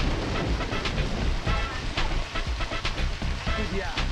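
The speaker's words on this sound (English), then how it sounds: "Oh great, it's raining." Rain in the Deadly Premonition Origins video game, a dense steady hiss of falling water with low rumbling underneath, continuous and fairly loud throughout.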